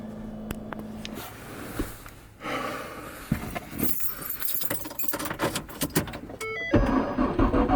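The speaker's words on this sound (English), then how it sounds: "go start the car" On a frosty winter morning in a blizzard, car keys jangle and rattle near the vehicle, followed by clunks and an engine cranking and catching into a steady idle toward the end.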